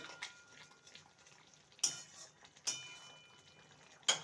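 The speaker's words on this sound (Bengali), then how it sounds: "গরম মশলার গুঁড়ো কোয়াটার স্পুন ভালো করে নেড়ে নেব" A utensil stirs a potato and pointed gourd curry seasoned with garam masala in a pan, giving a faint, quiet simmer broken by three or four sharp scraping clinks against the pan.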